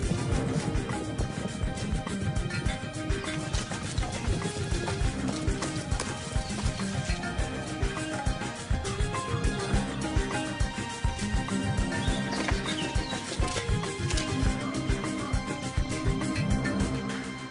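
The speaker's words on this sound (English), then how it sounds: "The mouflon sheep panic and bolt for cover." Mouflon sheep flee from wolves in a dense, continuous patter of running hooves, loud and steady throughout.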